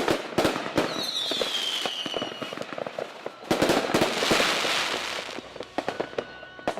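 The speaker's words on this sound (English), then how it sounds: "the fireworks began to go off" Fireworks going off in a rapid barrage of loud bangs and crackles, with a whistling rocket rising early on, fairly close.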